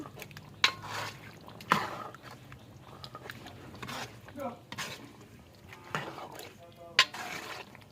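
Potato and coconut pieces tipped into a cooking pot, a few sharp clatters and spoon clinks against metal spaced out over soft stirring, with a person talking throughout.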